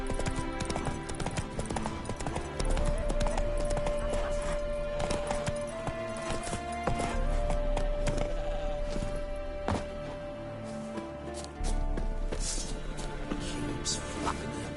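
Hoofbeats clip-clop steadily as Roach, Geralt's horse in Witcher 3, gallops. The rhythm runs under ambient game music, and voices are heard talking.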